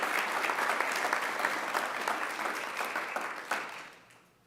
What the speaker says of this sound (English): I'd like to give one more round of applause for everybody as new members of the administrative team